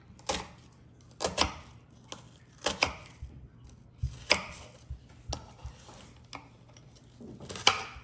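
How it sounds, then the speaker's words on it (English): A knife cuts an onion into cubes on a board, sounding as irregular close taps and chops with short pauses between strokes. "How I'm going to cut the onion? So just the regular way, you know, just cubes."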